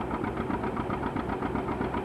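A restored 1935-36 John Deere Model A tractor engine runs smoothly at a threshing demonstration, with a steady, close, rhythmic chugging beat that holds at an even idle throughout, no voices over it.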